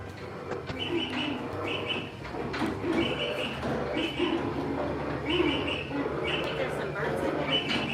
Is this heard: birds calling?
yes